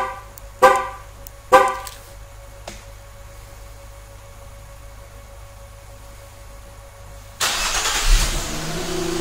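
A Nissan/Infiniti is remote-started with its factory key fob: two sharp chirps, a long quiet pause, then the engine cranks and settles into a steady idle close by.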